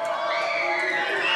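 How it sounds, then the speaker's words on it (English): Loud, dense crowd noise fills a tense one-possession basketball game between Eagles and Donelson Christian Academy, with sustained cheering and shouting rising steadily throughout. "Crowd deafening."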